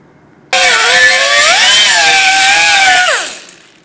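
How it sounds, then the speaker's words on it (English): A die grinder fitted with a Scotch-Brite pad buffs a chrome surface on a Chevy 383 engine build, a loud steady high-pitched whine that starts abruptly, shifts pitch midway, then spins down over about three seconds. "we want to take our Scotch-Brite pad on our die grinder, and we want to buff this area here"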